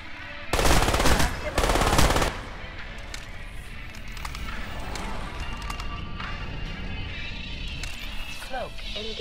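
Gunfire in the video game Crysis: a loud rapid burst of automatic shots for about two seconds, then a quieter rumbling game ambience.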